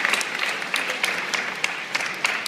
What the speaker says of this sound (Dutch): Ja, we mogen een applaus.